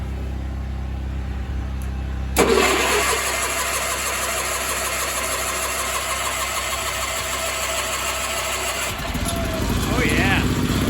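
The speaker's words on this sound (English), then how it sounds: "RT16 Clune loader will start." A Sears Suburban RT16 loader tractor engine cranks and catches, then settles into a steady, close running idle with a rough mechanical clatter.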